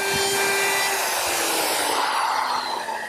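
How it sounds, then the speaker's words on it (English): Power sander smoothing a wooden carousel table top in a woodworking shop, a steady high-pitched motor whine with broadband abrasive hiss, close and continuous, easing slightly toward the end. "Now, we'll just sand it smooth"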